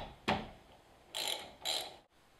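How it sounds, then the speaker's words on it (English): A ratchet backs off the bolts on a disc brake caliper. There are three short bursts of close, crisp ratcheting, each a quick run of clicks, with pauses between them. "Now just back the bolts off that hold the caliper in place."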